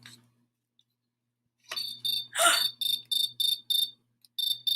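A cricket chirps in a rapid series of short bright pulses, repeated bursts close and clear after a quiet start, with a louder rustling burst among them.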